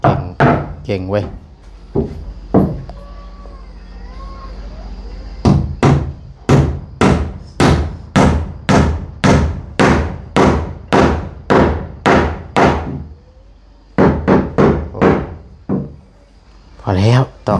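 Heavy blows pound steadily into something, a long run of evenly spaced loud thuds with brief pauses between bursts, close by, as people talk now and then.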